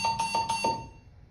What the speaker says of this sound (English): those four high-pitched beeps means I have a special message just for you